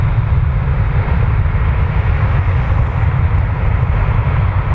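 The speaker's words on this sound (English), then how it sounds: "PIA is always a cool plane to see here." A Pakistan International Airlines Boeing 777-200 airliner at Toronto Pearson airport produces a steady, loud jet engine roar that fills the whole stretch without a break.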